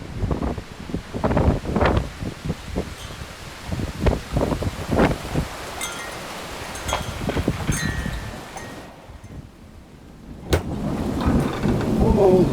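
Strong wind and rain during Storm Ciara in England, with blustery gusts roaring against the microphone and rain pattering steadily, rising and falling in bursts with a brief lull before the wind surges back loud and close.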